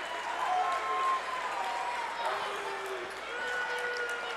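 A college basketball arena crowd during a College of the Ozarks versus St. Francis game reacts to a foul call with a sustained loud roar of voices, shouts and scattered clapping.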